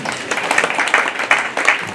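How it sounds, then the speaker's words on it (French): Audience at the Bia So Mengong festival breaking into applause, dense continuous clapping from a crowd, fairly loud and close throughout. "Applaudissez pour vous-même."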